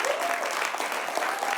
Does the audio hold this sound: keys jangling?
no